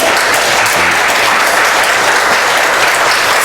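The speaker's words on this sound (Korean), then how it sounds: "박수로 환영하겠습니다" A Korean church congregation at Sunday worship applauds to welcome a newly registered member, giving loud, sustained, evenly dense clapping that fills the room for the whole stretch.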